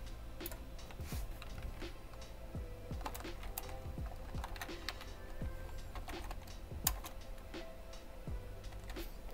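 Typing on a computer keyboard while programming an Arduino e-paper display, with irregular close clicks and taps spread across several seconds.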